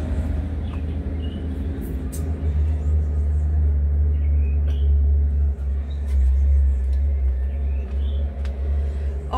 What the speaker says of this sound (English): That's a big truck.